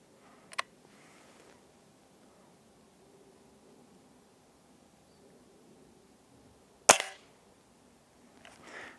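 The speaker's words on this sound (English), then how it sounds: "It's more of a springy twang jump from the pistol." Hatsan Model 25 Supercharger .177 spring air pistol fires with a sharp snapping crack, then a second louder shot follows several seconds later with a brief springy twang trailing off, against a quiet background.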